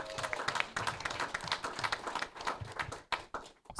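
Audience applause at an evening venture capital panel event, broad dense clapping from a room of people, steady and fairly loud, tapering slightly near the end.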